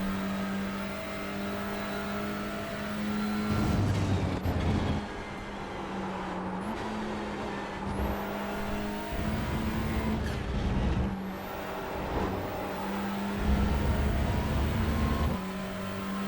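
Honda Civic TCR race car engine at Red Bull Ring in iRacing, a steady droning engine note rising and dropping through gear shifts and corners, close and continuous, with another car audible nearby.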